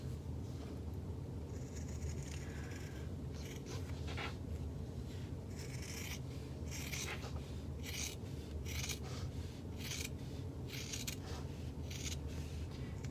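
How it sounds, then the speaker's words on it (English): Sharp scissors trim the fabric seam allowance on a sewn bag panel, giving a run of soft, irregular snipping and rubbing bursts, close but quiet, with no talking. "get a good pair of sharp scissors, and we're just going to trim away the seam allowance here"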